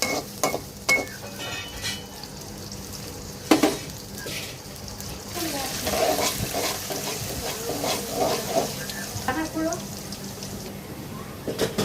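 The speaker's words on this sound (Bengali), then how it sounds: "পেঁয়াজ দিলাম তেল পেঁয়াজটা ভাজবো ভালো করে" Onions fry in oil in a pan as the start of a chicken bhuna. A continuous close sizzle runs throughout with repeated stirring scrapes and a few utensil knocks, and a voice is heard at times.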